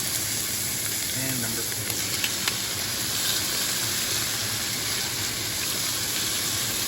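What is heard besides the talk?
steak searing and sizzling in a hot pan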